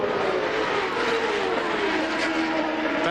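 CART Indy race cars from the 2000 Motorola 300 at Gateway drone past in a continuous loud engine roar, with a slowly falling pitch as the field streams by, and no talking.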